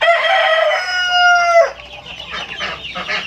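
Village chickens in a grow-out coop: a rooster crows loudly and close for over a second, then hens cluck and chatter steadily in a busy, overlapping stream.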